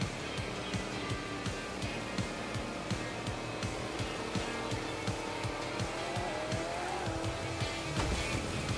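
Race cars roar past in a steady, distant-sounding rush of engine noise punctuated by rhythmic clicks and thumps, with a rising whine near the end, continuous and fairly faint throughout.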